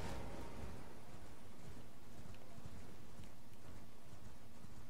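A horse gallops along a path in the Caelid area of a video game, a steady rapid clip-clop of hooves under a constant low wind-like rumble, with no talking.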